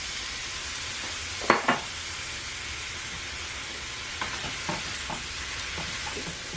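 Spinach sautéing in potato broth makes a constant broadband hiss and sizzle, with a few faint stirring knocks and scrapes scattered through it and no voices.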